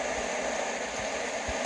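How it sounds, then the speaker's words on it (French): In the video game FNaF 6, a steady, breathy whirring hum of an electric fan runs evenly throughout, with no voices. "Ça c'est pour enclencher le ventilateur."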